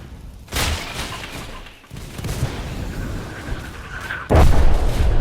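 Booming artillery fire in the trench-warfare game Entrenched, heavy blasts landing at intervals with a very loud close impact near the end, rumbling battlefield noise filling the gaps.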